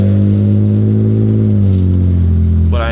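A BMW E36 car engine idles and revs steadily up close, a loud continuous mid-range drone with shifting pitch across the whole stretch, heard alone without talk.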